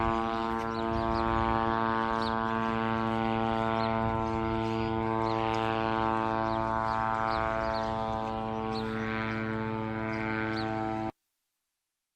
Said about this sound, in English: the sound you heard is of a bloody drone hovering over the head constantly